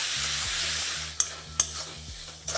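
Turmeric and Kashmiri chili powder being stirred into tomatoes in a frying pan for moong dal, a soft steady sizzle with a few sharp scrapes of the spoon against the pan, close and without speech.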